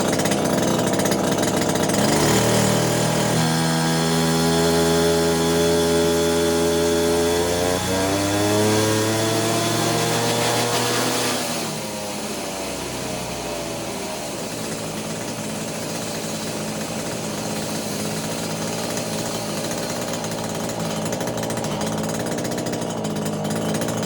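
A Neotec 843 chainsaw, a Husqvarna 543xp clone with a modified muffler, screams close and loud on a dyno pull, its pitch climbing steadily before the throttle is released and the engine drops back to a lower, rougher drone.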